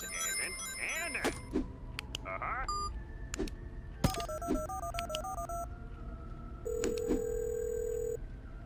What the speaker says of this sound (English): I'm just gonna keep ringing the phone.